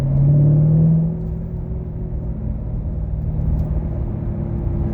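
Corvette C7 Grand Sport driving along a narrow, winding road, its engine a steady close rumble with a brief louder rev at the start, then settling into an even cruising drone.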